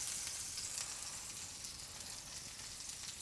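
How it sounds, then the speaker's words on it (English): Burgers sizzle steadily in a hot frying pan as they are flipped, a constant soft hiss of frying fat without voices. "We'll give the burgers a flick."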